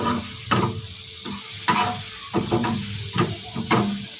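Butter sizzles steadily in a pan while it is swirled around, a continuous close frying hiss broken by repeated light scraping and stirring strokes, with no talk.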